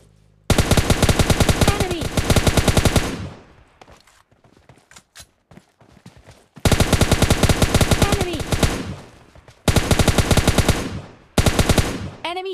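Automatic gunfire in the mobile game PUBG Mobile Lite: loud, close rapid-fire bursts, with a quieter spell of scattered shots between the first and second bursts and a short gap before the last.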